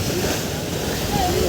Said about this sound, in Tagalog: Hop, malaking alon guys.